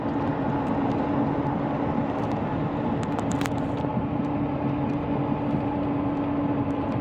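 A 1995 Ford F-150 barn-find pickup with its exhaust freshly repaired runs at a smooth, even idle, a steady low hum throughout with a few faint clicks and no speech.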